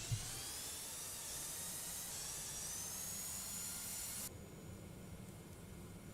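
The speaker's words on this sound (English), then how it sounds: "Throttle it up manually then. Airspeed's alive. Takeoff thrust set." TFDi 717 jet engines spool up for takeoff in the Prepar3D flight simulator, a loud steady broadband roar with rising whine that drops slightly in level near the end.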